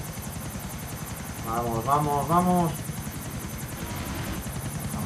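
Helicopter in the video game GTA IV, a steady whirring rotor drone throughout with a high buzzing hum, while someone shouts excitedly over it.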